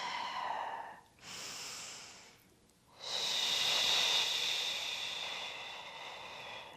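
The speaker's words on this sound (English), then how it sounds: "Inhale at the top and exhale to curl and roll back down." Slow, audible breaths in and out during a bridge exercise for hypermobility at home: long airy inhales and exhales with a short pause between, close and clear, with no talking.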